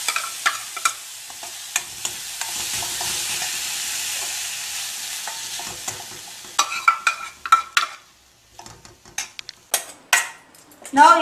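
Boiled sprouts and mixed vegetables (peas, beans, capsicum, carrot) stirred in a pan with a utensil: a steady soft sizzle, then scraping and clattering strokes against the pan, close.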